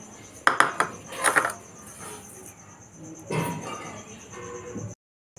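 Cooled, crisp roasted spices for a digestive powder tipped into a small container, a few sharp clinks and rattles of grains against metal, then a softer pouring rustle before sudden silence.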